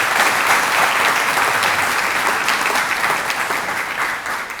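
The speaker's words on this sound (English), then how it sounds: "Let's have one final round of applause for our star teachers and star students" An awards-ceremony audience honouring star teachers and students breaks into dense, sustained applause, loud and even throughout before easing slightly at the end, with no speech over it.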